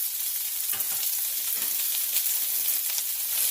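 Garlic and chopped onion frying in a pan for Trinidad-style curry chicken, a bright steady sizzle close up with soft irregular stirring scrapes and no talking.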